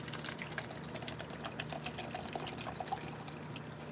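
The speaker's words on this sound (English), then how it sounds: "Let's pour us a cup." Half-and-half sweet tea and lemonade pours steadily into a cup, a continuous splashing liquid stream with no talking.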